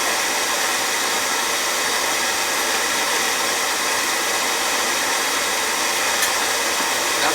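An oil burner motor runs alone during bleeding, giving off a steady, loud, even whir with a broad hiss that holds unchanged throughout with no voices.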